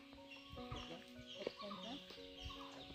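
Chickens clucking and calling among village trees, several birds with repeated tonal calls overlapping, close and moderately loud, with a faint voice in the background.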